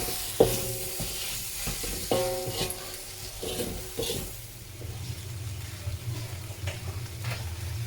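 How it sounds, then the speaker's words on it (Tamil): Okra masala roast sizzling in a pan as lemon juice is poured in and stirred, with sharp clatters of a spoon against the pan at the start, then a steady, soft frying hiss, close and with no talk. "இப்போ வந்து நம்ம ஒரு சம்சா அளவுக்கு எலுமிச்சம்பழம் சாறு ஊற்றுவோம்"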